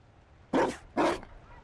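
Two loud, close dog barks in Dragon Age Inquisition, evenly spaced with a short pause between them and nothing else around them.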